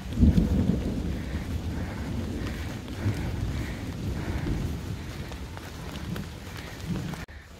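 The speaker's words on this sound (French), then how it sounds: "il continue de pleuvoir et le ciel aussi de gronder" Low rumbling thunder rolls under steady rain and gusty wind buffeting the microphone, loud at first and then continuing as a constant wash, on the Way of Saint James (Rocamadour route) near Joyeuse, France.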